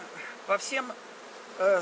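Honey bees buzz at the lower entrance of a multi-box hive, a close, faint hum with a few brief louder passes as individual bees fly near.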